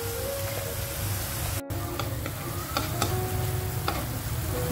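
Ketchup, chili sauce and soy sauce sizzle in a hot pan for stir-fried hu tieu with shrimp and pork, a steady loud hiss broken by occasional sharp ticks of a utensil stirring.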